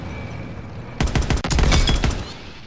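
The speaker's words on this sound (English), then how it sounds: "Your MG shots just bounce off!" Machine gun fire in the World War II shooter Call of Duty WW2, a loud rapid burst of shots starting abruptly after a quiet lead-in and running for over a second before trailing off.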